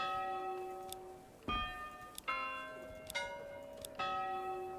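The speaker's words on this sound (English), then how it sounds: "This is the shittiest bell." A church bell rings in the medieval village-building game Manor Lords, sounding four or five evenly spaced metallic strikes whose ringing tones linger and decay between hits, with no talk.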